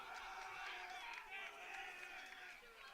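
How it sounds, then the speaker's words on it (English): A crowd of parents, alumni and staff cheers and claps at a high school baseball game between St. Joseph's Prep and LaSalle College High School. The steady, distant crowd noise is faint and mixes with voices. "you hear the claps and the cheers from both sides of parents, alumni, staff"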